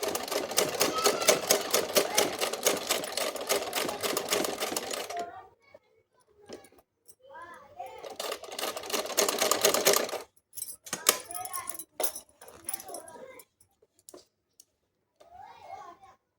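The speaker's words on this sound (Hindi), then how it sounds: "अब इसकी सिलाई लगानी।" A sewing machine stitches a designer sleeve in fast, steady mechanical rattling bursts, loud and close, stopping and restarting between pauses, with a voice talking briefly in the gaps.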